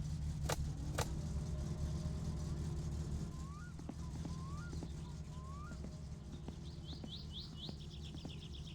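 Car engine idling as a low, steady rumble throughout, while birds chirp and tweet in the background.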